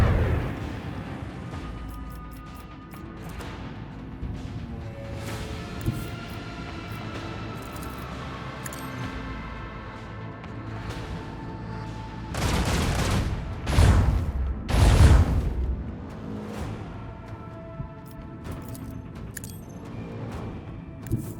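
Ship guns fire in the Warhammer 40,000: Rogue Trader video game with a sustained rumble and then heavy booming volleys and bursts in the middle, loud and close over a droning battle soundscape.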